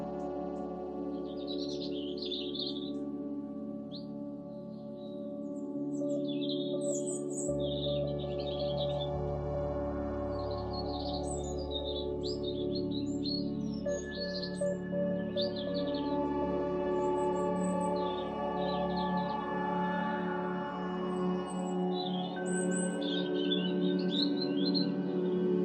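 Wild garden birds chirp and sing at golden hour, with bright tweets and short song phrases repeating throughout over a steady low hum of background noise, moderately distant.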